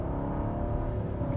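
A Bentley Mulsanne's big engine pulls hard at full throttle, a deep, steady, loud rumbling drone heard from inside the car, with no voices over it.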